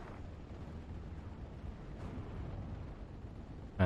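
Artillery explosions in the WWII strategy game Steel Division: Normandy 44, heard as a steady distant rumbling roar with a muffled blast midway and a sharper impact at the very end.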